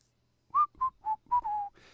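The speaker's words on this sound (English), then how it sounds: "Want to hear that whistle, baby?" A short whistled melody of five crisp notes plays as a sound effect on a morning radio show, clear and close with no talk over it.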